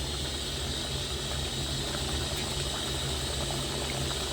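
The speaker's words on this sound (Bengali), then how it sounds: "এই মশলাটা একটুখানি ফুটে যাক" A spice mixture for fish curry, with koi and pabda fish, bubbles steadily in a pan. It gives a constant, fairly loud boiling hiss with a low rumble and no talk.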